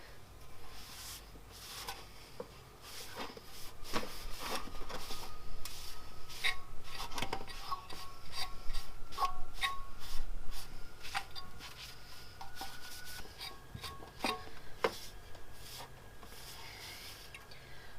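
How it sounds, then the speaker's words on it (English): A shop rag buffs cured, dry-to-touch coating off a bike part, making repeated quick rubbing and rasping strokes close by, growing busier in the middle before easing off. "we're just going to buff it off with another shop rag"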